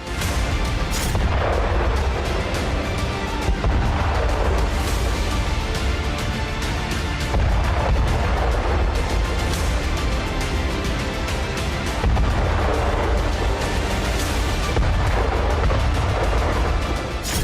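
Heavy artillery shelling near Zaporizhzhia in wartime, a dense, continuous roll of loud booms and blasts layered over one another with no pauses and no voices.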